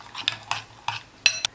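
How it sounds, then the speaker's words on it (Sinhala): A spoon scraping and clinking against a bowl while mixing chocolate cake batter, in four or five distinct, sharp, close strokes with quiet gaps between them. "අපි ඒකත් දාලා හොඳට මිශ්‍ර කරගමු"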